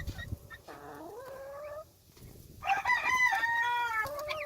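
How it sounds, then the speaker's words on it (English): Baby guinea fowl keets on a winter farm give high, wavering chirps and peeping calls in repeated bursts, fairly close, with a louder run of overlapping cries near the end. "Some baby guineas."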